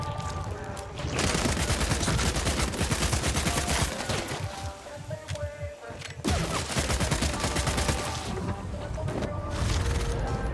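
Gunfire in a shooter video game pours out in rapid, sustained bursts, loud and close, with a short lull in the middle before the shooting picks up again.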